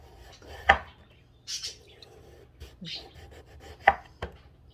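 A knife slices through eggplant on a cutting board, with several distinct cuts, two sharper thuds standing out, and a faint scrape between strokes, close and quiet, with no speech.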